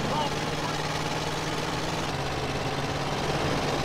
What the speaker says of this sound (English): The engine block is held together with a macrame hammock, and it's running on 15-year-old cooking oil.